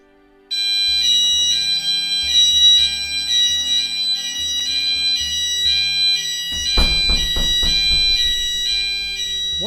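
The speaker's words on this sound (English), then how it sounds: "So when the fire alarm sounds, the doors close, just like this." Corridor fire alarm sounds with a loud, steady high-pitched electronic tone while fire-linked doors swing shut, their closing thuds and clunks heard partway through.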